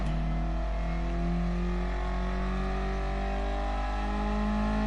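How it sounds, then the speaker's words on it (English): Car engine in Gran Turismo Sport racing game, a steady loud drone with rising harmonic tones as it accelerates, its exhaust backfire making it louder than most, with no talk over it. "the engine's a fair bit louder than a lot of it because of the backfire from the exhaust"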